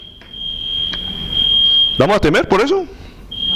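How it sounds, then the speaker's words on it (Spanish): A smoke alarm sounds a loud, steady high-pitched electronic tone indoors, held continuously and briefly interrupted, while someone speaks over it in Spanish. "ahorita puede sonar la alarma, puede haber un incendio aquí"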